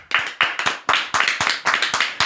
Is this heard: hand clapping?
yes